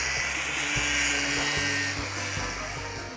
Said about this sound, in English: We can cut that housing, we can cut that off.